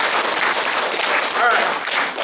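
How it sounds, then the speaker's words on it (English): Audience at a family martial arts belt ceremony giving a big round of applause: dense, steady clapping fills the whole moment at close range, with voices mixed in. "Give them a big round of applause."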